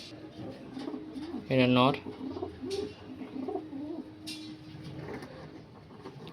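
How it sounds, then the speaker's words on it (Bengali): A pair of Panjabi Malwai Miravwale nasal pigeons, male and female, is close by; one gives a short, clear resonant coo, followed by quieter murmuring coos while someone talks softly. "বন্ধুরা একটা মিরাপবালা নেসালের পায়রা দেখাচ্ছি"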